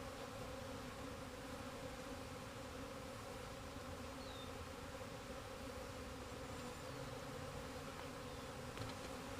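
Honey bees buzzing around a hive, a dense continuous drone from many insects close by, steady and unbroken without any talk.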